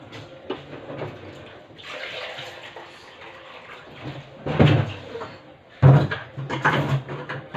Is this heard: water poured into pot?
yes